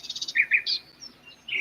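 Sparrows, finches, cardinals and blue jays at a feeder on an overcast day give quick bright chirps in short bursts, a fast run of tweets followed by a few sparser calls, clear and close.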